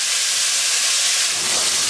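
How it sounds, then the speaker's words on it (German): Meat searing in a hot Dutch oven, a loud, steady sizzling hiss held close and unbroken for the whole short stretch, with no talk. "Das Fleisch braten wir jetzt erstmal ordentlich schön an."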